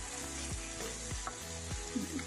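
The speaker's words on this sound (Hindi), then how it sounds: "इसको हम ऑयल के अंदर अच्छी तरह से फ्राई कर लेंगे।" Chicken curry ingredients frying in oil in a pan over fairly high heat, a constant hiss with a few stirring scrapes about every half second, close and quiet.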